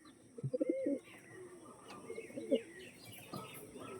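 Original Pulsar breed pigeons coo in a close, low bubbling call, two distinct bursts separated by a pause, with faint chirps and light background noise.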